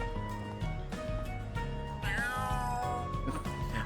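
A cat in the Kuro No Kiseki 2 video game gives a series of drawn-out, strained meows and a harsh caterwaul over steady background game music, fairly close and clear.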